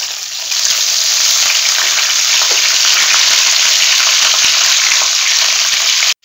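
Mustard seeds and curry leaves hit hot oil for a pineapple fish curry, setting off a loud, steady, dense sizzle that holds evenly from start to finish with no voices over it.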